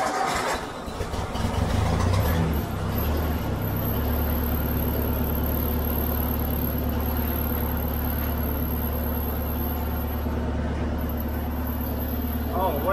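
A tractor engine cranks and catches, then settles into a steady, loud idle, with a voice speaking briefly near the start.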